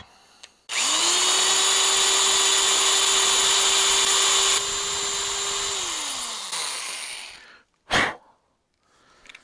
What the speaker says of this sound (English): How do you drill it slowly when there's one speed, on and off?